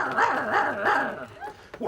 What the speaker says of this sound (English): No, the funny dog's back again.